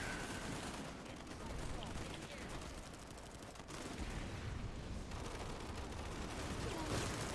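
Sustained volleys of gunfire from the sci-fi shooter Planetside 2 on PS4, dense automatic weapon fire rattling continuously at steady loudness with a brief dip in the middle, mixed with game action noise.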